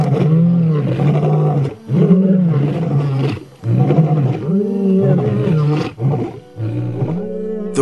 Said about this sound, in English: Sending a message of dominance and power, they started roaring, like only the king of the animal kingdom can.